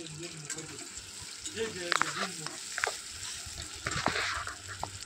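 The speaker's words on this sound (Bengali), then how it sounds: "পেঁয়াজ এবং লঙ্কাগুলো ভালো করে লাল লাল করে ভাজতে হবে, ভালো করে নেড়েচেড়ে ভাজতে হবে" Onions and chilies fry in soybean oil in a pan, a soft steady sizzle broken by a few sharp clinks and scrapes of stirring, with faint running water at moments.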